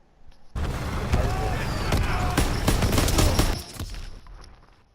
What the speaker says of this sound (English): I'll shoot straight up in the air and it'll be a friendly fire